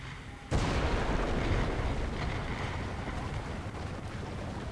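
Artillery strike in War Thunder during an M4A5 Ram II tank match: a sudden heavy boom cuts in after a brief lull and gives way to a sustained loud rumbling roar that slowly eases.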